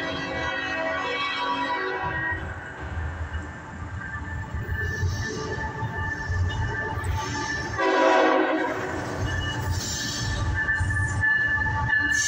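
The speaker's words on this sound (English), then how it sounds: "We got a train coming right now." A CSX/NS freight train with autoracks and mixed freight rumbles past close by, wheels grinding and squealing on the rails, with a loud horn blast sounding partway through.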